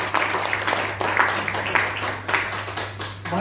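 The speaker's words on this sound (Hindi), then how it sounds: "ताली इतनी जोर से बजाइए कि चतुर्वेदी जी खुश हो जाए।" Audience applause at a Press Club of India anniversary event in Delhi, a steady patter of claps from a seated crowd with a constant low hum underneath.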